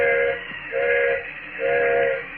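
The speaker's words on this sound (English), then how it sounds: "Engineer's whistling for a flagman." Steam train whistle blown by the engineer of a stopped train to call a flagman: three sustained, near, loud blasts of even length with short gaps between them.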